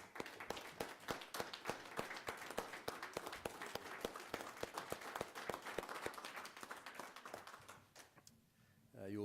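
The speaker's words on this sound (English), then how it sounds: "would like to just to give you guys some applause" People at a city council meeting give a standing ovation, a dense, steady burst of many hands clapping close to the microphone for several seconds before it tapers off, with some voices underneath.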